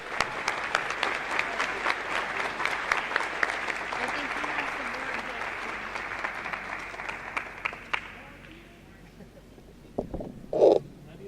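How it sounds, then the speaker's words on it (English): A crowd at a high school gymnasium dedication applauds, a dense clapping roar that holds strong for about eight seconds and then fades out, with a short loud noise just after it ends. "One last round of applause for Mr."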